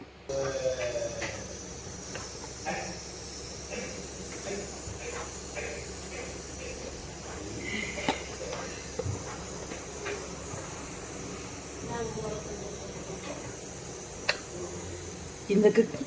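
Ghee poured into hot spinach pulao, a steady low sizzle and hiss running throughout with occasional clicks and scrapes, while a person talks over it.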